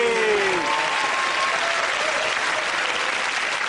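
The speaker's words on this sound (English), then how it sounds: "Give it up round of applause to Russell, Fred and Andy." A studio audience at a comedy panel show applauds loudly and continuously, a dense wash of clapping with a brief voice heard at the start.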